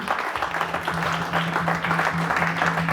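Church congregation clapping and cheering in praise, a dense sustained wave of applause with voices mixed in, loud and continuous throughout.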